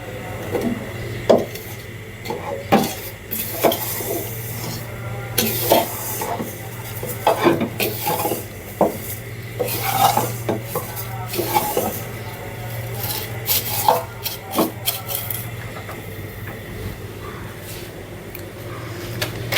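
Soft, quiet frying of vermicelli in ghee, with repeated scraping and clinking of a utensil stirring in the pan, in irregular bursts over a low background hum.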